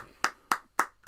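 A few sharp, close hand claps, evenly spaced, ring out alone for a football man of the match during a Birmingham City versus Middlesbrough Championship watchalong.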